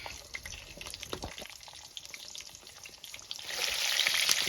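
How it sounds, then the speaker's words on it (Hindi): Potatoes frying in hot oil that was used for fish pieces in a Kashmiri-style fish dish, a steady crackling sizzle with scattered pops that swells louder toward the end. "अभी यहाँ से ये जो आलू है इनको भी हम फ्राई कर लेंगे इसी तेल में"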